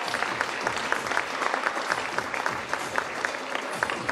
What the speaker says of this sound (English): Come on parents, cheer her.